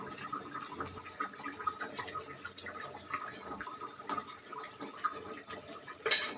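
A pot of tamarind pulusu simmers on a stovetop, giving a steady, dense bubbling and gurgling with scattered small pops and drips, close and moderately loud, with a sharper burst near the end.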